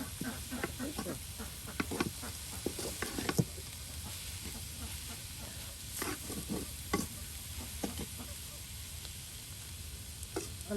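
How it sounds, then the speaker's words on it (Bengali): Bottle gourd greens and coriander leaves are stirred and turned in a frying pan, a steady sizzle under repeated scraping and clattering strokes of a spatula, close and continuous throughout. "পাতা ধনিয়া পাতা একসাথে দিয়ে কিন্তু এখন উলট পালট করে নেওয়া হচ্ছে"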